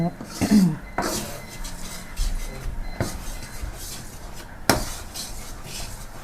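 Thick sweet fish sauce stirred in a metal pot with the gas just turned off: repeated clanking and scraping of a utensil against the pot, close and fairly loud, with sharp knocks at intervals.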